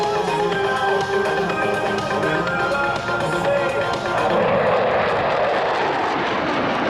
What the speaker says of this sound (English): the C-130 from number 37 Squadron, a high-speed inbound to your right